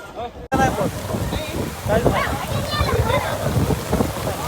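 Heavy rain pours at an outdoor wedding, a loud, steady wash of noise that fills the clip after a brief cut, with voices talking over the downpour throughout.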